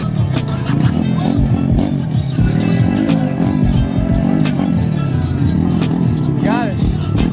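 Motorcycles idling and blipping their throttles at low speed during a slow race at a Tampa bike night, with engine notes rising and falling over a busy outdoor crowd.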